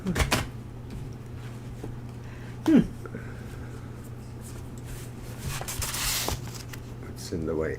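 Tarot cards shuffled in short, rough bursts of papery riffling, with a louder stretch near the end, set among quiet room noise and nearby people talking.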